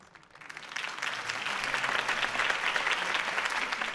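Audience applause after a campaign speech, swelling in quickly from near silence into sustained, dense clapping from a large crowd that holds steady to the end.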